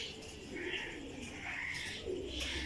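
A pigeon, a flying-breed bird, gives soft, repeated low coos in three rolling phrases, heard close and fairly quiet with no other sounds.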